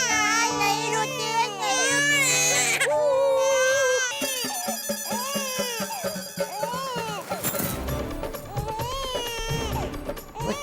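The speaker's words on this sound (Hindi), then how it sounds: "ये तो बच्चे के रोने की आवाज है।" Baby crying in a temple setting, a sustained wavering wail with rising and falling pitch, fairly loud, mixed with background music and other sounds.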